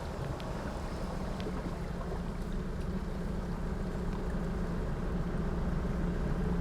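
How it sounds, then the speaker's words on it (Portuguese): Sea waves wash continuously onto a beach in Pernambuco, Brazil, a broad steady roar of surf with wind, fairly loud and unbroken, with no voices. "Às vezes a gente fica aqui só para apreciar, escutar e ouvir o mar."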